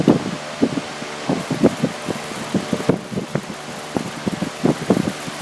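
A very powerful electric fan blows steady air at close range onto a USB rechargeable plasma arc lighter, producing a continuous loud whooshing roar with gusty rustling buffets and repeated low thumps of wind hitting the microphone.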